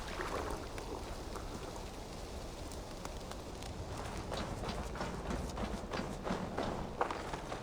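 Horse hooves galloping across ground in Assassin's Creed Valhalla, a steady fast drumming of hoofbeats mixed with broadband rustle like rain, continuous and fairly close, with no talk.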